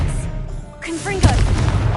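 A Confringo fire spell goes off in Hogwarts Legacy, a sharp boom at the middle of the clip followed by crackling burst and rumble, with other spell effects and a voice around it.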